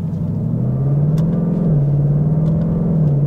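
A 2022 Ford Mustang GT with a 10-speed torque-converter automatic accelerates hard, its engine drone rising in a loud, close rumble and briefly dipping with a quick gear shift before climbing again.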